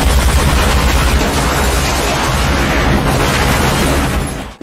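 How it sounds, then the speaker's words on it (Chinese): A sniper rifle gunshot in a spy action film, fired by an assassin with an oversized round, lands as a loud, sustained blast with a roaring tail that fills the whole moment before cutting off abruptly. "随着一声枪响，香烟盒安然无恙，小胖的胳膊炸了"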